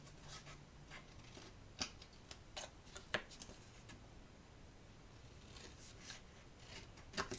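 Paper flaps being cut off by hand with scissors at a craft table: soft, irregular snips and rustles, close and fairly quiet, with no one speaking.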